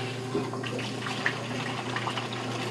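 A Maytag washing machine spins and drains, giving a steady low motor hum beneath a continuous rush and trickle of water, close and even throughout.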